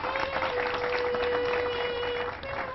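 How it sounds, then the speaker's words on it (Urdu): Studio audience applause on a Pakistani TV chat show, dense and steady for nearly three seconds, with a faint sustained tone running beneath it. "تالیاں."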